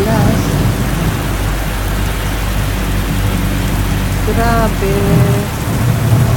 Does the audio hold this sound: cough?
no